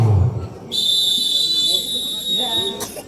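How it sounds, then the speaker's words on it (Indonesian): A referee's sharp, high-pitched whistle blast sounds steadily for over two seconds during a gobak sodor match, cutting through crowd noise, then a brief rustle follows. "Peluit sudah dibunyikan."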